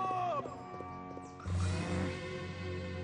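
A cartoon pony neighs in place of speech, a voiced whinny with rising and falling harmonics, then a louder, fuller second neigh running to the end, close and clear over light background music.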